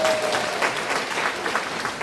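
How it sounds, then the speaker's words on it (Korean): A crowd claps steadily in a dense, even burst of applause, loud and fairly close, with no voices standing out, at an outdoor civic talk concert in a park amphitheater in Miryang, South Korea. "정답입니다. 박수 주십시오."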